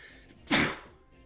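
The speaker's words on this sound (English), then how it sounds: "Sneezing jump scare" One sudden, loud sneeze bursts out once in a quiet room during a Pokémon card game, sharp and close, then fades quickly.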